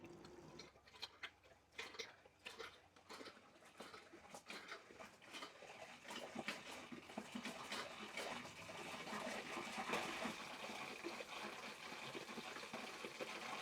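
Steady stream of water pouring from an RV faucet while the water heater is being refilled during dewinterizing, a continuous close splashing hiss with irregular clicks and drips early on that thickens into a fuller, even rush.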